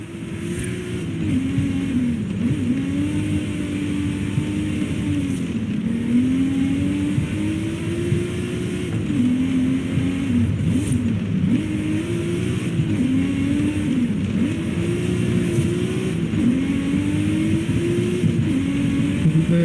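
A car engine in Forza Horizon 5 drones steadily, its pitch rising and dipping as it accelerates and shifts, continuous and close throughout.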